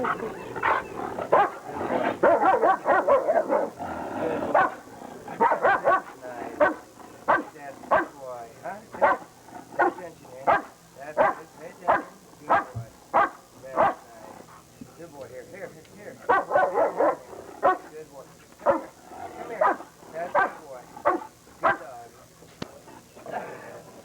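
A hard-working dog at a 1981 DVG training seminar barks repeatedly in sharp, rhythmic bursts, with a few whimpering yips and people talking between and over the barks.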